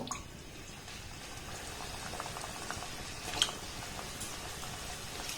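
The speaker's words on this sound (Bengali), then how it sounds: "এবার এগুলোকে আমি তেলের মধ্যে দিয়ে দেব" Snacks frying in medium-hot oil in a wok, giving a steady soft bubbling and crackle that runs throughout, with one brief sharper pop partway through.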